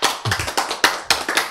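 An audience claps at a Korean lecture on the Bible, a short burst of about six sharp, evenly spaced claps that sound close and crisp, with no talking over them.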